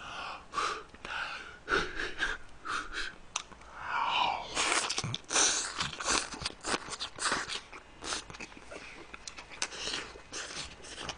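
Close chewing and crunching sounds come from someone eating spicy pa-bulgogi, beef bulgogi with green onions, with gasps and breaths between bites.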